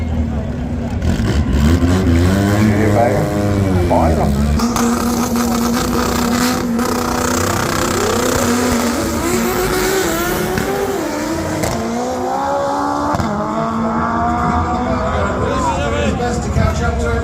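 Doorslammer drag racing cars roar and rev hard as they accelerate down the strip, engine pitch climbing in loud sweeps beneath a track announcer's voice.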